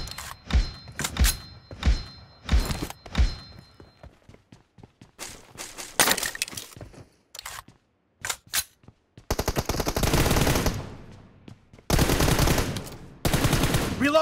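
Rapid bursts of gunfire from a shooting video game, single shots and sustained automatic volleys alternating with brief quiet gaps, loud and close with sharp percussive attacks.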